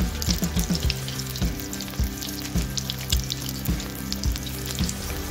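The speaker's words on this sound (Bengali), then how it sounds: "বড়াগুলো এক পাখে ভাজা হয়ে গেছে, এলা উল্টিয়ে মই ওপাকখান করিও বড়া ভাল করে ভাজি নিম" Fish egg bora fritters fry in hot oil with a steady sizzle, broken by rhythmic clanks of a utensil against the pan as they are turned, close and loud.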